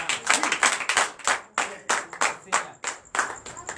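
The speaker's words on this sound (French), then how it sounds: "Donc l'acclamation à Jésus." A church congregation claps in acclamation to Jesus during a Friday night deliverance and prophecy service: loud, uneven rhythmic handclaps in bursts, with some voices mixed in.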